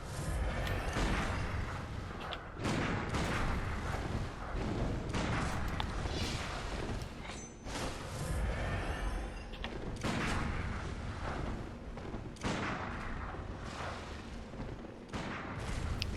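Gunfire from an enemy in the Bloodborne video game: dense, continuous booming shots and blasts, loud and close, filling the whole stretch with heavy rumbling impacts and no talking over them.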